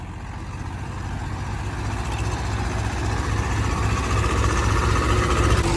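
An overloaded tractor stuck in a field rut roars under heavy strain, its engine droning loud and steady and building slightly in intensity, with no talk over it.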